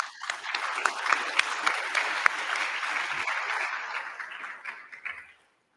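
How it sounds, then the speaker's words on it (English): Audience at the first Integrity Symposium in Sint Maarten breaks into applause, a dense, steady clapping from a room of people that holds for several seconds, then tapers and stops. "I think you deserve a round of applause."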